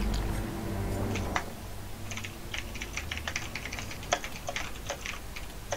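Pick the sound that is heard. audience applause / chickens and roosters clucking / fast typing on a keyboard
fast typing on a keyboard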